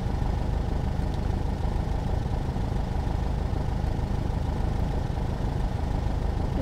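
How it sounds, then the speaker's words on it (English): A Falke SF-25 C motor glider engine in the Prepar3D v4 flight simulator runs in a steady, loud, even drone after starting, with no pauses throughout. "Sometimes it takes up a couple of times to get the engine to start, but it starts up nice"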